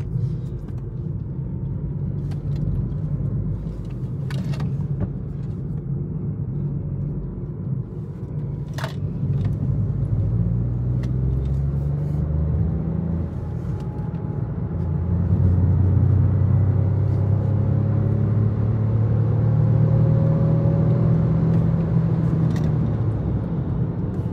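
Peugeot 208 with a PureTech engine driving through a roundabout, a steady low engine and road rumble from inside the cabin that rises and falls slightly as the car accelerates.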